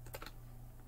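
A quick burst of computer keyboard key presses during BeamNG driving play, several faint clicks bunched in the first third and then quiet hum.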